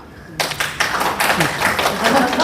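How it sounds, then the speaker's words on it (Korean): An audience at an English academy directors' case presentation starts clapping, with steady scattered hand claps joining in after a brief pause and continuing under a murmur of voices. "지금 박수 칠 때 아니에요."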